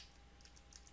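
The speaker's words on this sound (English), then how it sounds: "I'm using my keyboard shortcuts here." Keyboard shortcuts tapped on a computer keyboard, several quick faint clicks in an uneven rhythm over a quiet room hum.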